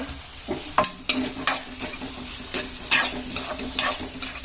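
Carrot palya frying in a pan, a constant close sizzle broken by frequent clinks and scrapes of a spoon stirring against the metal, with no voices.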